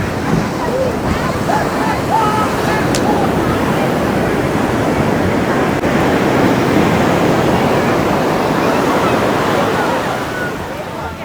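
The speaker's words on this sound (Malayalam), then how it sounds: "സൂപ്പർ തിരയാണ് കേട്ടോ" A loud, steady roar of ocean surf breaking on Shankumugham beach, Thiruvananthapuram, constant and close, with a faint voice briefly audible.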